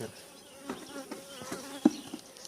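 Honey bee colony buzzing inside a hive during expansion with wax foundation, a dense steady hum of many bees close by with a few brief knocks and no talk.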